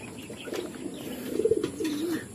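Pigeons returning to a loft coo softly and murmur at close range, with faint rustling and a light flutter among the birds.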